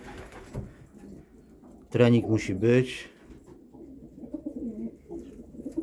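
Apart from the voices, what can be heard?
homing pigeons cooing in a loft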